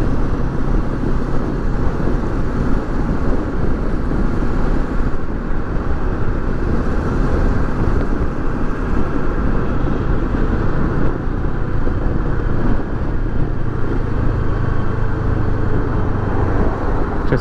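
Cars and heavy vehicles passing on a mountain road in the Serra das Russas, a loud, continuous rumbling drone of engines and tyres that swells and eases slightly as vehicles go by close to the roadside.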